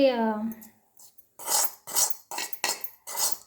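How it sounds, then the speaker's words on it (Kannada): Puffed rice being tossed and mixed with fried cumin and mustard seeds for chudwa, heard as a run of dry, rustling scrapes in quick bursts after a short tonal sound at the start. "ಎಲ್ಲ ಜೀರಿಗೆ, ಸಾಸಿವೆ ಕೂಡ ಫ್ರೈ ಮಾಡಿ ಇಲ್ಲಿ ಅಳ್ಳಿನ ಜೊತೆ ಮಿಕ್ಸ್ ಮಾಡ್ತಾಯಿದ್ದೀವಿ"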